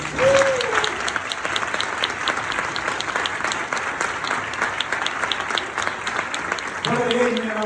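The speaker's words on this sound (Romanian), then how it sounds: "Hai să dăm un rând de aplauze" A crowd at a Romanian gathering applauds the event organizers with loud, sustained clapping throughout. Brief voices are heard at the start and end.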